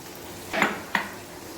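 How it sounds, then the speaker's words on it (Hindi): Ginger-garlic paste frying in a pan with two short stir-scrapes and a soft sizzle underneath, heard close and fairly quiet with no talk. "इसको मैं थोड़ी देर इसको ज़रा फ्राई करूंगी"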